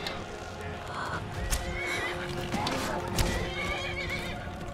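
A horse in Skyrim whinnies and snorts amid its own clip-clopping hooves, moderately loud and close, with a couple of sharper neighs over a busy game soundscape.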